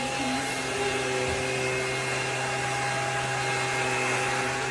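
A BISSELL PowerClean 200W self-standing cordless stick vacuum with a tangle-free brush runs continuously, a steady close motor whine with a constant airy hiss and no pauses.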